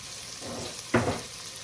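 Celery and onions fry in a pan with salt and black pepper, giving a low steady sizzle broken by one brief louder crackle midway.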